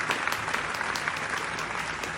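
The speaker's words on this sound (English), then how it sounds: "But anyways, cue the applause track." A canned applause track plays alone, a brief burst of dense, even clapping at moderate volume.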